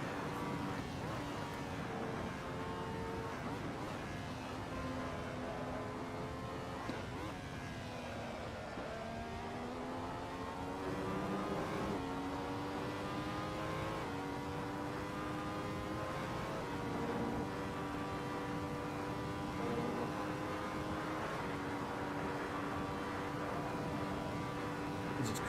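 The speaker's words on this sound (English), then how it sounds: "Crazy how much this car rips" A race car engine in Assetto Corsa howls at high revs for the whole stretch, loud and close. The pitch sweeps up through gear after gear, briefly dips, then climbs again in a steady run of upshifts.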